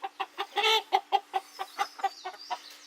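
An adolescent rooster screams in a farm coop, letting out a rapid run of about a dozen harsh, strained squawks close by with no voices over them.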